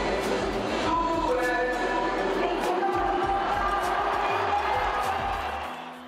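A stadium crowd of Corinthians supporters at Neo Química Arena roars and applauds in a steady wash of noise, with a voice talking over it.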